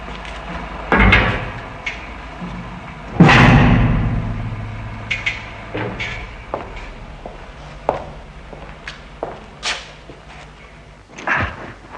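A heavy 6-inch steel blast door of an escape room at a launch site thuds and clanks shut, with a loud booming impact followed by scattered metallic clunks and latch knocks in a reverberant space.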